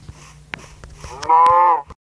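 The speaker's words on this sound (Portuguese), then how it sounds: "Essa vaca aqui." A cow in a Minecraft-style survival video game gives one drawn-out moo near the end, preceded by a few soft game clicks and steps, with no one talking over it.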